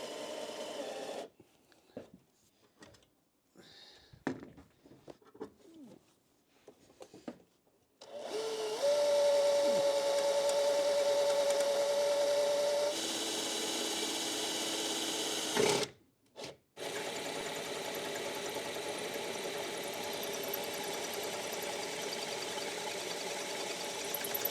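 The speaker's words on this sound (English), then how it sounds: "drilling hole in the bulkhead for the first time." A hole is drilled through the firewall bulkhead of a Land Rover Discovery 3, a loud sustained whine and grinding that runs continuously for over fifteen seconds with a brief break, after quiet handling noises.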